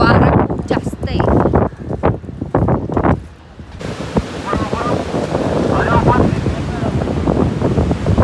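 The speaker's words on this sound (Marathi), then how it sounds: "वारा खूप जास्त आहे." Strong wind buffets the microphone at Calangute beach in Goa, a loud continuous roar with gusts and faint surf beneath.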